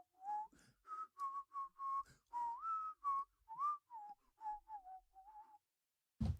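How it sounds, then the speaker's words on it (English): Someone whistles a bright, melodic tune from an old audio advert, a series of clear sustained and slurred notes in quick succession, fairly faint and alone, ending with a short thump. "that is the wonderful whistling advert from NGC 40K"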